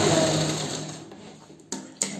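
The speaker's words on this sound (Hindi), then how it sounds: "तो थोड़ी और यहाँ से सिलाई लगाएंगे।" A sewing machine runs a line of stitches through fabric, a loud fast whirring that slows and fades over two seconds, followed by two short sharp mechanical clacks, close by with no voices.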